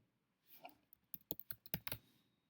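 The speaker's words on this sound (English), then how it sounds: "I'm simply typing here" Keys clack on a computer keyboard in a quick, quiet burst of about a dozen taps, close by with no talking.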